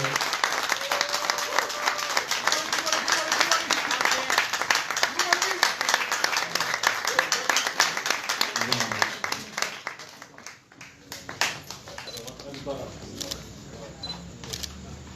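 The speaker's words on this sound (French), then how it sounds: "c'est Sambre Sissoko, on applaudit" A theatre audience applauds in a dense, sustained burst of clapping that thins out after about ten seconds into scattered claps, with a voice announcing over the applause.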